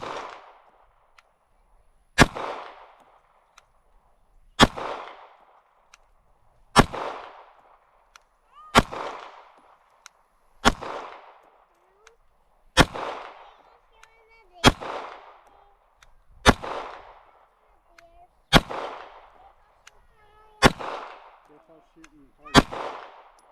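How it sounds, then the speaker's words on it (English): Ruger RXM pistol fired at a target, eleven sharp, loud gunshots spaced about two seconds apart, each with a short echoing decay, in an otherwise quiet outdoor setting. "I'm gonna pick a spot and I'm just gonna shoot a group"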